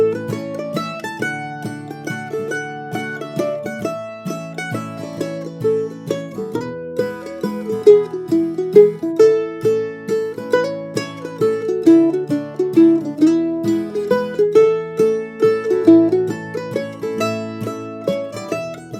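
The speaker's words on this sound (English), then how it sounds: "called Jolie Blon, and the main melody sounds a bit like this" A mandolin plays the melody of the Cajun tune Jolie Blon, with quick plucked notes and tremolo-like picking rising and falling at close range, heard alone without talk.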